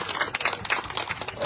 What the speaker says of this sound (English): Can you all give yourselves a big round of applause?